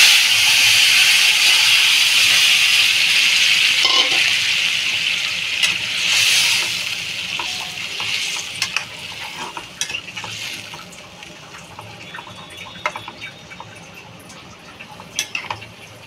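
Vegetables and tengra fish curry hitting a hot pan give a loud, broad sizzle that fades over the first few seconds. Softer frying continues beneath scattered stirring and utensil clinks.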